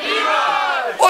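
Crowd at a medieval festival in Rothenburg lets out a brief, loud cheer, voices rising together in a raucous shout that fades.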